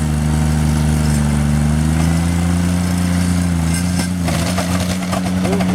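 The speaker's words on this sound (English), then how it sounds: "Let that little trencher go." Small vibrating-blade trencher laying fiber optic cable runs with a steady loud engine drone and a constant low hum, close by throughout, with a little extra rattle near the end.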